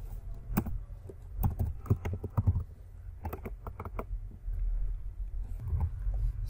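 Typing on a computer keyboard while writing a PHP script, with irregular bursts of close key clicks and short pauses between them, and no voice.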